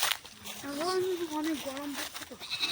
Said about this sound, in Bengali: আর এদিকে ছাগলগুলো চিৎকার করেই যাচ্ছে